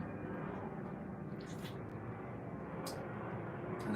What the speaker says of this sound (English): I think there's a plane,